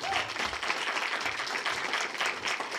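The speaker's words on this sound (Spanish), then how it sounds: "Un fuerte aplauso para todos y todas." An audience at a community communication forum claps in a sustained, even burst of applause that fills the room without pause.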